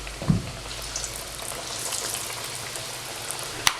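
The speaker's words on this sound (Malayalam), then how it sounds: "ഇതുപോലെ എല്ലാം ഇട്ട് കൊടുത്ത് ഫ്രൈ ചെയ്തെടുക്കാം" Batter-coated potato bajji slices frying in hot oil, a soft continuous sizzle with a couple of sharper clicks and splashes near the start and end, fairly quiet and close, without speech.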